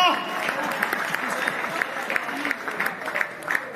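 Audience applause at a Hindi comedy poetry (hasya vyangya) stage show, a steady wash of clapping that runs the whole time, with sharper bursts rising from a live crowd.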